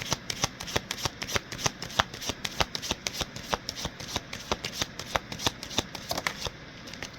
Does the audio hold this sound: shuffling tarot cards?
yes